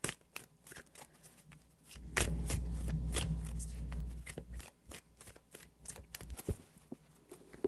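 Tarot cards shuffled by hand in a run of crisp riffling bursts and soft slaps, loudest in the middle stretch, close to the microphone, with a faint voice now and then.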